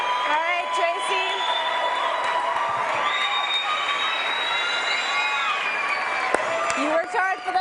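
A studio audience at a weight-loss competition show keeps up loud, continuous cheering with shrill whoops and sustained shouts riding over the crowd noise.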